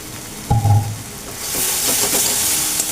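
Pabda fish curry spices sizzle and fry in a pan, a short clatter followed by a steady bright hiss of sautéing.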